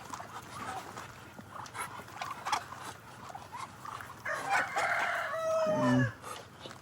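Ducks gathered and waiting to be fed in a backyard pen, with a jumble of quacks and calls plus other farm birds, louder honking bursts near the end.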